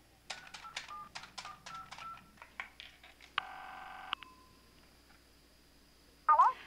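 A telephone number is dialed with a quick series of short keypad tones in an irregular rhythm. A longer steady tone follows, then a brief louder burst at the end.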